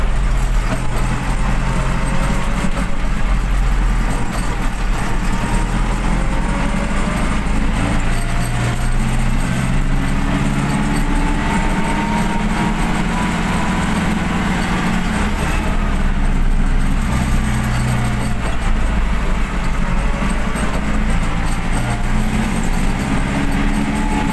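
An MTZ 1025 tractor fitted with a MAN D0834 engine runs steadily and loud at close range, a deep low engine drone with constant rumble throughout and no pauses.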